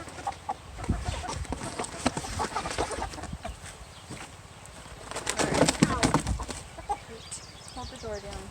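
Chickens cluck and squawk in a pen where a big rooster is being added to the hens and geese, with bursts of flapping wings and a busy, scuffling peak midway, alongside people talking.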